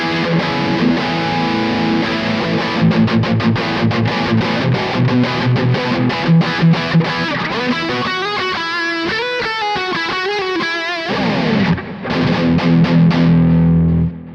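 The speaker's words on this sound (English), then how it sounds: "Wizard MTL High Boost is what I've called it. Now that is a direct profile" An electric guitar plays high-gain riffs through a Kemper direct profile called Wizard MTL High Boost, with no mic or cab. The tone is heavily distorted, with rhythmic chugging and sustained bends, loud and continuous.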